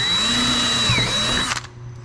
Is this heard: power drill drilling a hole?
yes